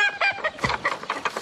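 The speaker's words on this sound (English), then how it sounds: "just chicken wire round the run for Scissors' fellow hens" Hens clucking in a chicken run fenced with chicken wire, a quick run of short, close clucks and chatter, no talking.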